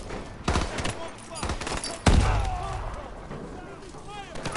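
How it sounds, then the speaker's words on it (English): Call of Duty: Advanced Warfare combat: rapid bursts of gunfire crackle close by, then a heavy contact grenade blast booms loudly at mid-clip and rumbles away, with voices talking over the fight. "let's use the contact grenade"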